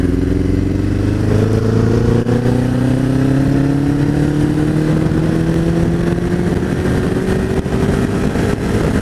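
A Bandit motorcycle engine that has been juddering and slow on the throttle revs loud and close, its pitch climbing steadily over several seconds with no pause.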